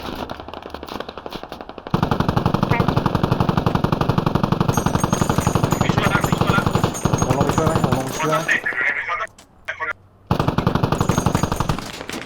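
Rapid, loud bursts of automatic gunfire from heavy weapons in the video game Squad, nearly continuous with a few brief pauses, with faint talk mixed in.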